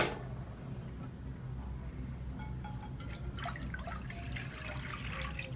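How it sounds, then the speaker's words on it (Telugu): Water is poured into a vessel for steaming a bread pudding, a faint splashing and trickling that grows busier toward the end, heard quietly and alone. "సో ఇందులో వాటర్ వేసుకోవాలి మనం."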